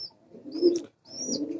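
Giribaz pigeons cooing in two close, low, throaty bursts separated by a brief pause, with faint higher chirps above.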